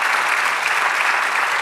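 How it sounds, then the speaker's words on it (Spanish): Church congregation applauding in praise during a Spanish-language worship service, a dense, steady wash of many hands clapping, loud and close, with no talk over it. "Dale un aplauso al Señor."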